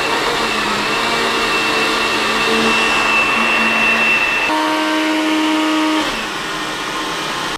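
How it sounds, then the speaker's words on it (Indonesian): A kitchen blender whirs steadily as it purées boiled red and green beans with their cooking water, a loud continuous motor drone that shifts pitch partway through, then eases slightly near the end. "Terus ini kita akan blender sampai dia halus."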